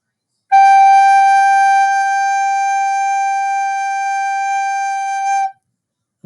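A single sustained G on a recorder, steady and clear with bright overtones, held for about five seconds alone with no talking.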